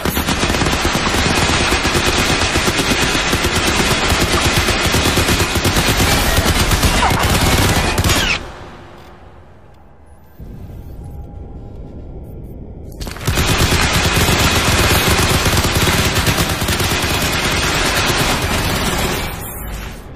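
Heavy enemy gunfire hammers a player in armor mode in Crysis 3, with loud, sustained automatic bursts that drop away to a quieter lull midway and then resume at full intensity for the rest of the stretch.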